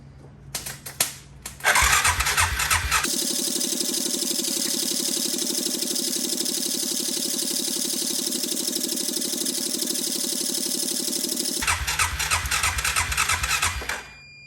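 A Suzuki Quad Runner 500 ATV engine cranks with a few quick turns, catches and settles into a loud, steady, close idle that runs for about ten seconds before cutting back to cranking sounds.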